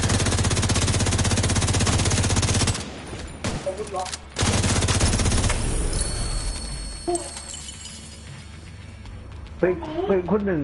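Rapid video game gunfire and grenade blasts from a shooter match, dense loud automatic bursts for a few seconds, then scattered shots and quieter game sounds as someone talks over them.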